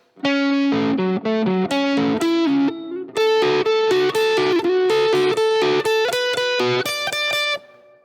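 A distorted electric guitar plays a sliding, repeating riff, loud and upfront with heavy effects, and no voices.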